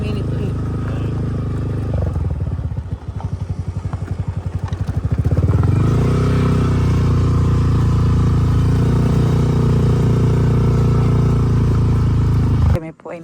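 A motorcycle engine idles with a rough throbbing putter, then rises into a steady louder drone as the bike rides along, with road rumble throughout and a clunk near the end.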